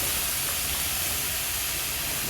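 Chickpeas hit a pan of frying spiced potatoes for a hotel-style chickpea curry, giving a loud, even, close sizzling hiss that holds steady throughout with no talk.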